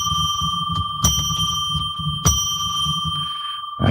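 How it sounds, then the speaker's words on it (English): A traditional bell rings three times to open a sacred space, each bright metallic strike ringing out and then fading over a low rumbling hum, with no talking. "I am now going to ring our bell, traditional bell, 3 times to declare sacred space."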